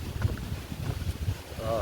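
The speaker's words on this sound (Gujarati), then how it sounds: "અત્યારે પવન ધબ ધબાટી બોલાવે છે." Strong wind blows outdoors near the Gir forest, buffeting the microphone with low, rumbling gusts that roar continuously through a short stretch.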